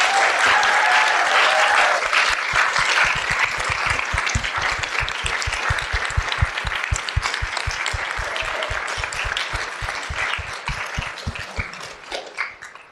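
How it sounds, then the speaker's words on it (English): Sustained audience applause from a large room at a presentation, dense and loud at first, then thinning into rhythmic, steady clapping that slowly tapers off. "Let's give them another round of applause."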